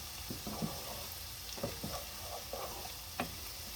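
Freshly picked garden herbs are stirred into a hot pan for chicken meatballs in cheesy cream sauce, producing a soft, quiet sizzle broken by intermittent scrapes and taps of the spoon.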